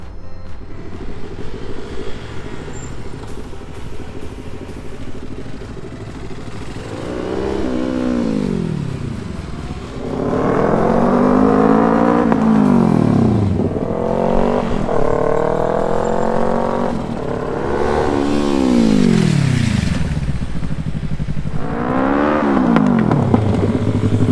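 Motorcycle engine near and loud, repeatedly revving up and dropping back in about five strong surges as the rider practises hard braking in 55 mph quick stops, with steady engine drone between.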